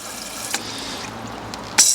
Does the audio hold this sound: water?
yes